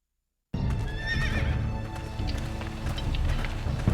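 A horse in the Game of Thrones video game lets out a wavering neigh after brief silence, then hooves clop steadily nearby, fairly loud, with a few scattered background knocks.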